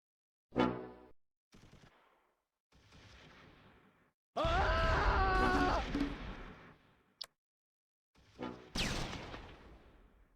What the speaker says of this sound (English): The guns return fire.